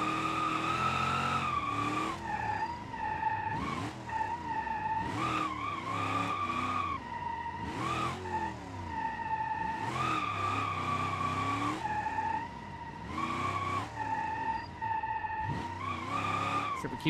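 Tires squeal and skid continuously through a drift run in the BeamNG racing game on a stock factory car, engine revving and pulsing underneath; loud and sustained with repeated bursts as the car slides.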